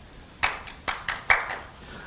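A few people in the audience at the Kwanhun debate forum clap, about five sharp, separate hand claps in a loose, uneven rhythm against a quiet room.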